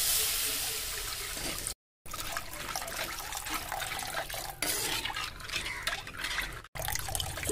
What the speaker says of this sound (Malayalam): നമുക്ക് വെള്ളം ചേർത്ത് കൊടുക്കാം.